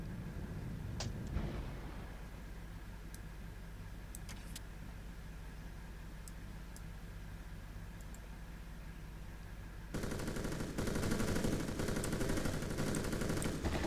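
Distant gunfire in the tactical game Soldiers of Anarchy: a few sharp cracks over a low steady hum, then a sustained rattling burst of automatic fire kicks in and continues to the end.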